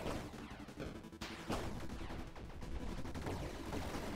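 Dual pistols blaze in the game Bleed with a dense, rapid stream of shots and crashing impacts, loud and continuous with a short break partway through, over a busy game soundtrack.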